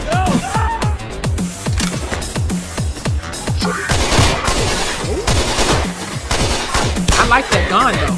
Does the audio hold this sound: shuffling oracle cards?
no